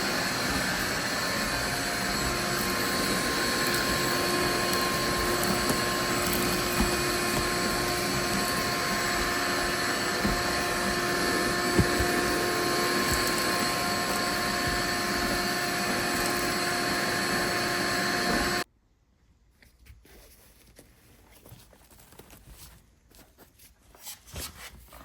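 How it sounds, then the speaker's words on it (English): A vacuum cleaner runs inside the interior of a 1983 BMW 633CSi, a loud, steady drone holding for about eighteen seconds before cutting off to near quiet with faint shuffling. "I'm gonna just start with vacuuming it out first"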